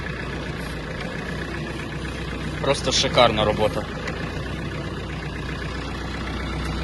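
A Mitsubishi MT-26 mini tractor engine runs steadily while the machine reverses, a continuous low diesel chug throughout, with someone speaking briefly over it midway.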